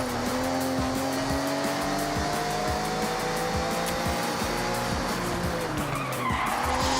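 A car drifting in the Forza Horizon video game, its engine droning steadily while tires squeal in a long, sustained screech, with a regular rhythmic thumping underneath throughout.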